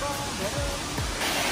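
A waterfall roars as a steady, dense rush of falling water heard close by, filling the short stretch without pause.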